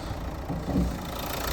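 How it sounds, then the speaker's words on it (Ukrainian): A Renault Megane 3 from 2015 with the K9K 81 kW diesel engine idling under the open hood, a steady low rumble with a brief swell in the middle, heard close up. "Робота двигуна добра, К9К 81 кВт"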